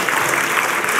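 Applause from an audience during a deputy prime minister's speech, dense and steady clapping filling the whole moment without a break.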